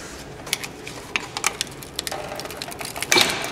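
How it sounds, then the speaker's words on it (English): A 3/8 drive ratchet works a caliper bolt on a 2005 Honda Accord's front brake, giving a run of quick, light metallic clicks in an uneven rhythm, close by, ending in a sharper clack. "Now loosen it the rest of the way with my normal 3/8 drive ratchet."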